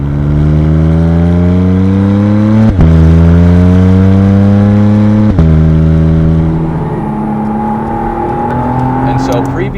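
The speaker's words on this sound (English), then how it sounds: "So when you press the throttle, it's very responsive and it's very modular" A 2023 McLaren Artura accelerating under throttle, its engine note climbing steadily through two quick gear changes, loud and close from inside the cabin, then settling into a steady cruise.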